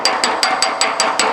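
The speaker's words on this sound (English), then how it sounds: "once in a while you have to do a heavier hit like that" Seven sharp metallic hammer blows in steady rhythm strike a dented aluminum auto body panel during planishing repair, each crisp and bright with short ringing decay, close and loud with no talk.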